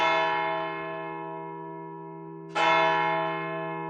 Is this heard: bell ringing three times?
yes